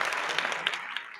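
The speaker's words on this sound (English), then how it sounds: "I got to give myself a fucking round of applause." A podcast host claps for himself in a studio, giving a brief, soft run of claps lasting about a second.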